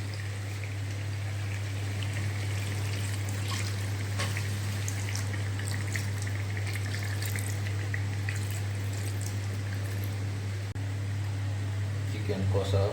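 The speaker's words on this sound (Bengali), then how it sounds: "এবার আমি জলটা দিয়ে দিচ্ছি।" Water is poured into chicken kosha in a pan, a continuous trickling pour over a steady low mechanical hum, with someone talking alongside.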